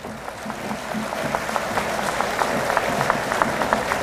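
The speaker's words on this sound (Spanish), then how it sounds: "Fuertes aplausos, por favor." Audience applause at a professional graduation ceremony, a moderate, even patter of clapping from a crowd, lasting a few seconds.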